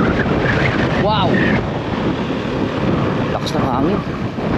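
Strong wind buffets the microphone in a steady, loud roar throughout, with a voice speaking over it briefly.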